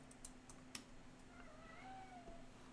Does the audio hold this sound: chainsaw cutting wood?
no